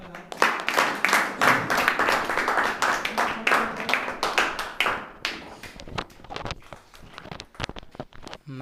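A class applauds a student debater with a burst of quick, loud clapping that thins out into scattered, slower claps.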